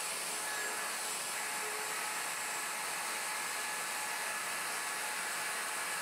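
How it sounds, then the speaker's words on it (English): Plunge router cutting a mortise in a Leigh FMT Pro jig, a steady high-pitched whine with broadband cutting noise held throughout, close and constant with no talking. "Lock the table and route the rear right mortise."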